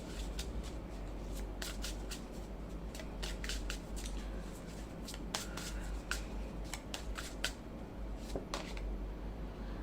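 Tarot suggestion cards riffle and snap in repeated quick bursts, crisp and close against a low steady hum.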